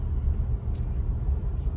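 A car engine rumbles steadily while driving toward a busy park parking lot, a continuous low, close drone with road noise and no speech.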